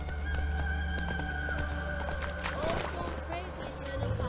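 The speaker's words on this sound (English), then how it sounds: "Run, Roach." A horse gallops in The Witcher 3 video game, with steady clip-clop hoofbeats and an occasional whinny over in-game music and ambience, while a person talks over it.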